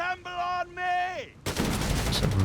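Artillery and gunfire from the WWII strategy game Company of Heroes 3 break out as a loud, dense barrage of shots and blasts. A brief tonal sound comes before the barrage.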